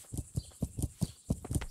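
A horse walks in Kingdom Come: Deliverance, its hooves striking in a steady, evenly spaced clip-clop, close and moderately loud with no talk.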